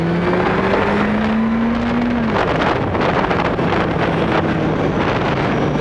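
A Kawasaki ZX-12R motorcycle accelerates wide open in first gear, its engine note rising steadily under heavy, constant wind roar close to the microphone.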